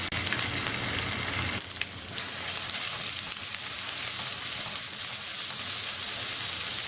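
Crushed garlic cloves and ginger fry in hot sesame oil in a pan, giving a steady, bright hiss and crackle that runs throughout, with a brief dip in the sizzle partway through.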